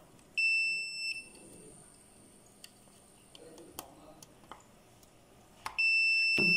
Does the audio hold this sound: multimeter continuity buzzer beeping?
yes